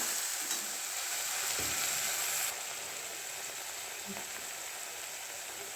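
Ground tomato paste with ginger-garlic masala hitting hot oil in a frying pan, a loud steady sizzle that drops slightly partway through, with faint stirring knocks and no voices.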